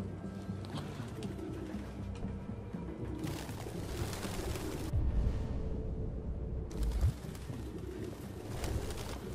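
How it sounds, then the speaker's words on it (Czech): Doves coo in a game scene from Detroit: Become Human, a clear run of repeated calls over a steady ambient bed, stopping briefly midway and then picking up again. "To jsou ptáci, to nic, to zavří."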